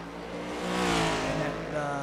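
A race car in the iRacing sim at Le Mans drives past with a steady, loud engine drone that swells and fades slightly, with a voice talking faintly underneath.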